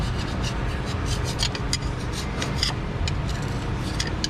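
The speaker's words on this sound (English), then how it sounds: "I'll just scrape this gasket clean, get off all the residuals" Old gasket residue scraped off a Dodge Ram 2500 engine, a continuous rough rasping scrape close up with short sharper strokes, over steady low background noise and no speech.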